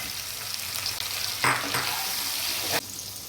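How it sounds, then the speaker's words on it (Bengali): Brinjal fries with turmeric in a pan, giving a steady close sizzle broken by louder bursts of crackling as the food is stirred, with no talking. "বেগুনটা আমার প্রায় হাফ ভাজা হয়ে গেছে, এবার আমি বেগুনটা দিয়ে দেবো।"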